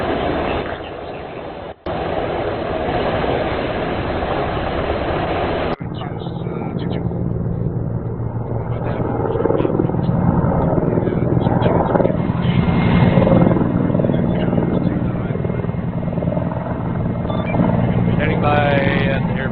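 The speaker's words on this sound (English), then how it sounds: "No, they're gunships." Gunship helicopters fly in a military video game, their rotor and engine drone steady and loud throughout, with voices talking over it.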